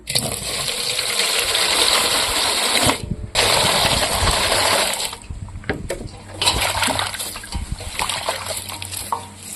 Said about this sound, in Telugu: మునగాకనైతే నీటికి గడుక్కుందాము